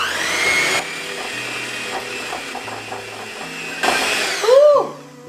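An electric mixer whirs steadily while beating softened butter into a vegan buttercream, a loud close motor drone with shifting pitch, cutting out briefly and then rising again before stopping.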